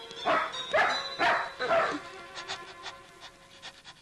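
A dog barks four times in a quick, close rhythm, then pants and makes softer yipping sounds as the barking fades.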